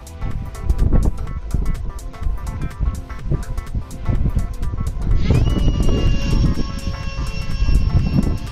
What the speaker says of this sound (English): I'm going to use the Jetapult and launch it.